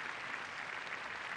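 Crowd applause for tennis champion James Blake after the 2006 Queen's Club final, a steady dense clapping wash heard at moderate distance.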